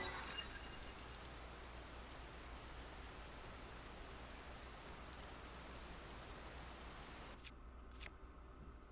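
Steady rain in The Legend of Zelda: Tears of the Kingdom video game, a faint, even hiss of falling drops throughout, with a couple of soft clicks near the end and no voices.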